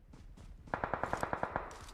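Automatic gunfire in PUBG Mobile on the Livik map: a rapid burst of about ten evenly spaced shots, fairly close, preceded by a few softer distant reports.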